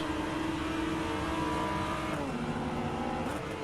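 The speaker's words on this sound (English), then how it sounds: "It sounds like I can hear all the other cars." Racing car engines in the video game Rennsport drone and whine together, pitch shifting as they pass, a steady close mechanical hum with no voices.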